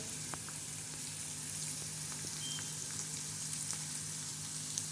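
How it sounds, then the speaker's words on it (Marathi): Cumin and garlic tempering in hot oil for a spicy moth bean usal gives a soft, steady sizzling hiss with faint crackles, fairly quiet and unbroken, with no voices. "जिरे याचा चांगला असा तडका द्यायचा असा चांगला चमचमीत असा त्याचा तडका द्यायचा आहे आपल्याला"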